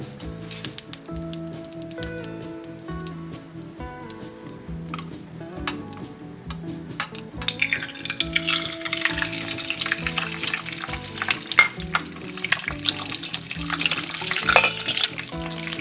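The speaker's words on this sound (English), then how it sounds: "And now I'm gonna fry my next egg." Egg frying in oil in a pan on a stovetop, a steady crackling sizzle that grows busier and brighter partway through, with scattered pops and spatters.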